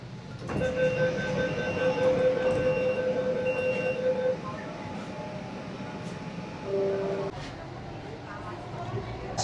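A metro train pulls into Phoolbagan Metro Station in Kolkata, with a loud rumbling roar, steady tonal whines and a brief high squeal as it slows, plus a faint murmur of people nearby.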